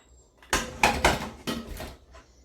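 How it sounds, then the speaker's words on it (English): Chopped vegetables tipped from a board into a cooking pot in a home kitchen, a few close clattering thumps and scrapes in quick bursts over roughly a second and a half, then quiet. "So the last of the vegetables are now finished. I will now transfer them into this pot."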